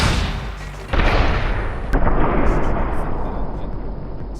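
An auto artillery launcher fires in the building game Scrap Mechanic, with a loud booming blast that rolls into a dense rumbling roar, followed by a second sharp report and sustained noise.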